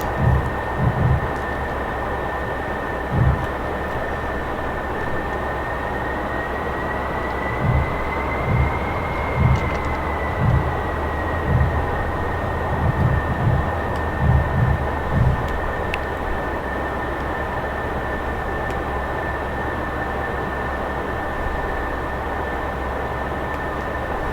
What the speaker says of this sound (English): Now, we are just gonna taxi the runway.